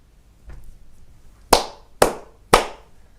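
Three sharp, loud hand claps spaced about half a second apart, preceded by a softer tap, in a quiet room during a spiritual talk.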